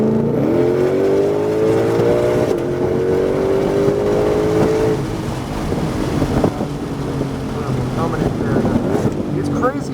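A Ford Shelby Mustang GT500 on a speedway track pulls hard, its engine note rising steadily as it accelerates with heavy wind rush around the car, loud and close from inside the cabin.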